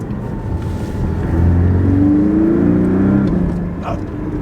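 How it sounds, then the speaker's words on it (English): Audi R8 V8 supercar launching from a standstill, the engine note swelling and rising in pitch as it accelerates, then easing off, loud and close, with no talking. "Let's hit a launch."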